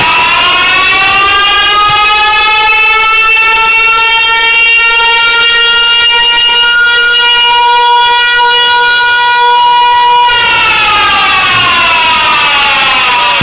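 A loud siren wails continuously at a wrestling event, holding a steady pitch for about ten seconds before sliding lower and fading, with no voices over it.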